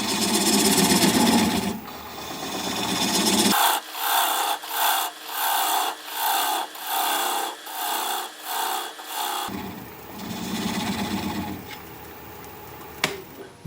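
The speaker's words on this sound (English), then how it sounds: "the lathe is spinning at 500 RPM" Wood lathe spinning at 500 RPM while a tool cuts a cork oak bowl, giving a rhythmic scraping rasp that pulses about twice per second, loud and close, with harsher continuous cutting before and after.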